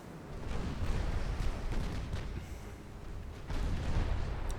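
Naval 7-inch guns firing in a strategy video game, heard as a continuous rumbling barrage of deep booms and blasts, moderately loud and swelling again near the end, with no talking.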